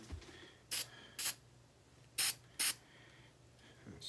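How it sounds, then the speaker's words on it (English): Four short bursts of aerosol spray, hissing from a can into a skull art piece, each about a quarter second long with brief gaps, close and clear over a low steady hum. "let's just spray some in here just to be on the safe side"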